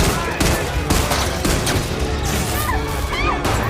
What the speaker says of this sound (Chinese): 对方一路猛射，医生还击，打中对方一枪